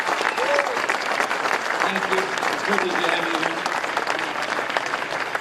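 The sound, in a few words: audience applause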